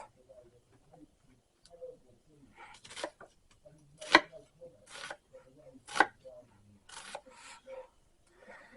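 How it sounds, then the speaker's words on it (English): An onion chopped in half with a knife on a board, several sharp, distinct cuts landing in an irregular rhythm, close and fairly loud, with quiet handling noises between them. "Chop the onion in half."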